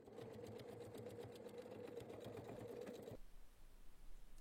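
A sewing machine stitches a large fabric tote bag in a fast, even mechanical chatter for about three seconds, close and clear, then stops abruptly, with no talking.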